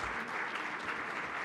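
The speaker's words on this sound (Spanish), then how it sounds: "Recibimos con un fuerte aplauso al ingeniero Herfelder" Audience at a family-perspective conference breaks into dense, steady applause, many hands clapping together at an even loudness for the whole stretch with no voices on top.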